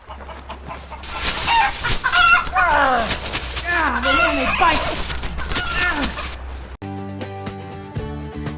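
Chickens cluck and a rooster crows loudly up close in a burst of squawking calls, followed by a short run of music.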